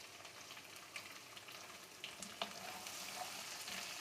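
Small chopped onion sizzling in oil in a karahi, a quiet steady hiss of frying with occasional stirring scrapes and pops.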